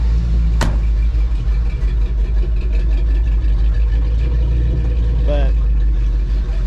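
An old car engine with a suspected idle air intake valve fault runs at idle, a loud low rumble that surges unevenly, while someone talks over it.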